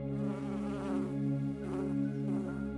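Steady insect-like buzzing of a bee in flight, continuous and fairly close, with a smooth droning hum throughout and no talk.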